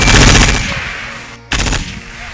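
DShK heavy machine gun fires two loud, close bursts of rapid rattling shots separated by a brief gap, with no talk over them.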